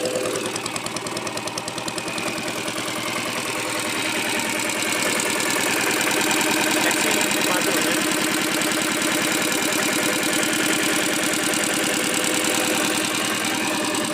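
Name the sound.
diesel motorcycle engine idling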